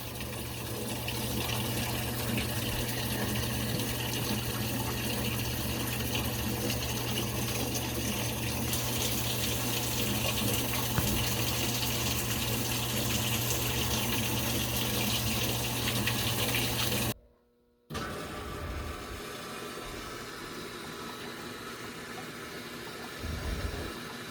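Washing machine filling with water as it flushes the detergent dispensers, a steady loud gushing rush that runs continuously, cuts out briefly near the end, then resumes a little quieter.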